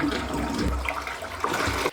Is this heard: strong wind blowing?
no